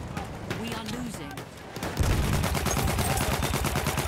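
Dense, rapid gunfire in the video game Battlefield 1, loud and continuous with bursts of shots, overlapping shouting voices in the first half before the firing swells and dominates.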